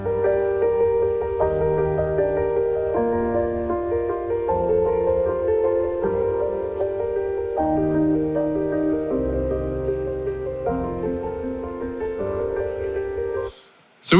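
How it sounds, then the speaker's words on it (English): AI-generated solo piano music, a steady flowing melody over sustained chords, played continuously at even volume and ending abruptly. "we've started creating piano music that sounds like this"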